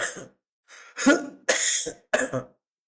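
Several harsh, wet coughs and throat-clearing bursts from someone at the tail end of the flu, trying to bring up leftover phlegm, coming in short separated fits close to the listener.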